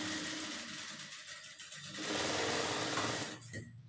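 Close and steady, a sewing machine hums and whirs while stitching a dart on a blouse front, running continuously and speeding up partway before stopping at the end.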